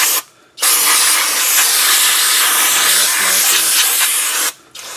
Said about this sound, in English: so we'll get a little brake clean out of this